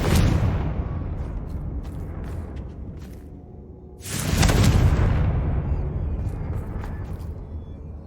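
Confringo fire spell in Hogwarts Legacy going off twice: a rumbling blast that fades, then a second louder boom with a heavy low roar decaying slowly, amid small game sound effects.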